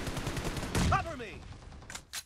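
Gunfire in PUBG Mobile, a loud burst of shots near the start followed by a sharp crack, with faint chirping effects and two brief bursts at the end.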